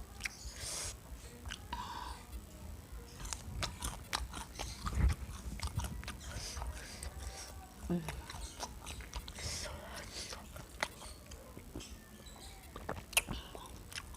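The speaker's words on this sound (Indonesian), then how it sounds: "kuat banget gigitnya, nggak pelan-pelan makannya" Close, crunchy bites and steady chewing of sweet corn fritters (bakwan), soft wet mouth sounds repeating throughout with a few sharper crunches, quiet and intimate with no talking.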